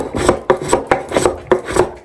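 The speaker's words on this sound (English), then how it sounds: "What I got myself is one of these cute little wood planers here, and then I'm just going to shave that down" A small hand wood planer shaves down a wooden workpiece in quick rhythmic strokes, about four rasping passes per second, loud and close.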